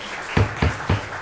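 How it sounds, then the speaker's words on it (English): Scattered audience applause at a county board of commissioners planning and zoning public hearing, three sharp, close claps spaced evenly apart over a low room hum. "if we could ask for applause to be held during this hearing"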